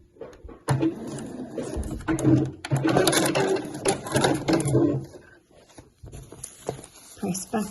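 Sewing machine stitching the bound edge of a fabric placemat, a close rapid mechanical whirring in bursts with short pauses, and a voice talking over it.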